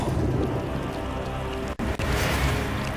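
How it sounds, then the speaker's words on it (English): Rain falls steadily in a video game cutscene, a dense hiss of drops with low rumbling underneath, cut briefly by two short gaps. "Until the racked rain began to fall."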